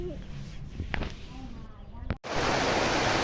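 Rain starting to fall in Dhoraji, building abruptly after a brief pause into a loud, steady broadband wash, with voices talking over the lighter opening drizzle.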